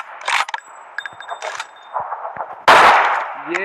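An AMR rifle fires in a video game: several sharp, separate shots at irregular intervals, then a much louder, lingering blast near the end, with no talking.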